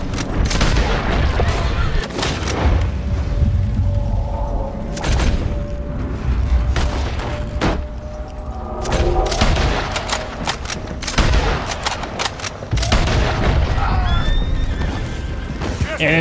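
Gunfire in Red Dead Redemption 2: repeated sharp shots and booms burst through a dense, loud mix of game noise, with horse whinnies and speech weaving through the action.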